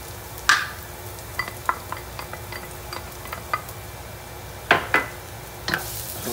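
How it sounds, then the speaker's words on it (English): Garlic sautéing in a pan for stewed baby back ribs with honey gold potatoes: a soft steady sizzle under a few sharp scrapes and clicks of a utensil stirring against the pan, close and alone. "saute a little bit."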